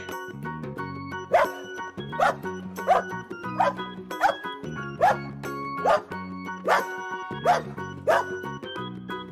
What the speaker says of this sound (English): And the next one we have is a dog.